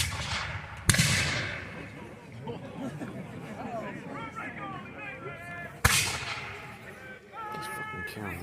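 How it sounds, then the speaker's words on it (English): Militia firing musket volleys by ranks at a War of 1812 battle reenactment: two sharp, booming reports about five seconds apart, each with a rolling echo, while people talk and call out in between. "So here we're firing the militia by ranks."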